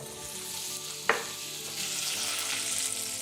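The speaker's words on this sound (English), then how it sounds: "Add your butter," Butter melts in a pot for a honey butter sauce with Frank's hot sauce, a steady soft sizzle with one sharp clink of a utensil against the pot partway through.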